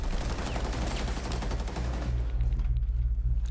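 Rapid automatic gunfire sprays at the player in the video game Rainbow Six Siege, a dense burst of fast repeated shots over a low rumble that thins out after a couple of seconds.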